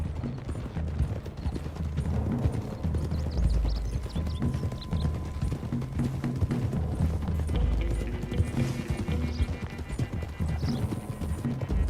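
Horses' hooves clip-clop on a road in Red Dead Redemption 2: dense, continuous clopping from several animals, close and loud, mixed with rattling mechanical clatter and no speech.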